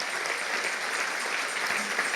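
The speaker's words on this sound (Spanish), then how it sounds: "Si le vas a dar un aplauso, dáselo fuerte" Church congregation applauding during a service, a sustained, fairly faint wash of clapping with no speech over it.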